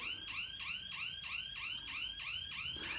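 A smart home alarm system siren sounds in a fast, steady series of rising electronic whoops, repeating about every third of a second, clear and moderately loud with nothing else heard.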